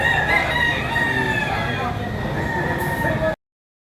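Roosters at a Filipino chicken market crow amid a dense, steady din of many birds, with layered calls overlapping throughout and a voice talking among them.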